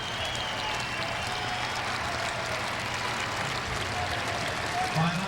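Applause greets a high school wrestler's state-champion win, a steady, fairly distant patter of clapping from the crowd in an arena, with a low continuous rumble beneath and voices mixed in.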